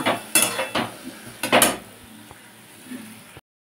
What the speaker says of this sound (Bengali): জাস্ট সবজির সাথে যেটুকু কাঁচা মশলার গন্ধটা না চলে যায় সেই পর্যন্ত আমি নাড়াচাড়া করে নেব।